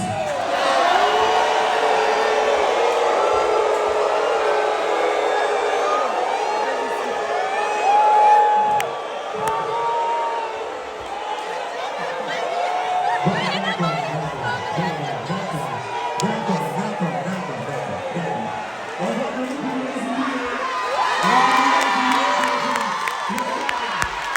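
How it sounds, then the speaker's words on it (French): Audience at a live talent show in Belgium cheers and claps loudly for a long stretch, with shouts and whoops, while a voice speaks over the crowd at times. "On va applaudir pour le pasteur Michael Ambaye qui a fait son zénith."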